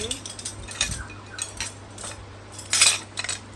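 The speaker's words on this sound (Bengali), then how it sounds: "এখানে আছে বেশ কিছু চামচ" Gold-coloured metal spoons, including a rice-serving spoon, clink and rattle against each other in scattered light taps, with a brighter jangle near the end.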